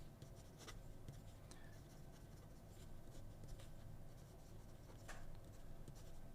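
A pen scratching across slippery Tomoe River paper, close and soft, a steady run of small strokes and light scrapes with brief pauses.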